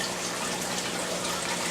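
Tap water running steadily from a faucet, a continuous broadband rush with no pauses, heard alone at moderate level while filling for a freshwater fish tank.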